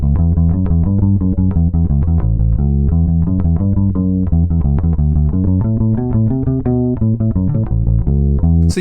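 A bass guitar plays a rock-and-roll style blues line in straight, even eighth notes, loud and steady, with a driving pulse of evenly spaced low notes throughout and no voices.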